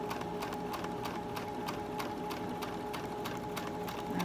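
A sewing machine stitching fabric, running steadily with a fast, even mechanical clatter of regular needle strokes, close and alone.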